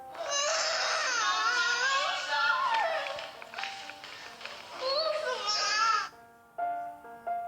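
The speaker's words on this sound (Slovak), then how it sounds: "počujeme ten zúfalý plač" A child cries desperately in long, wailing, high-pitched sobs with brief breaks between outbursts, loud and close, fading to short whimpers at the end.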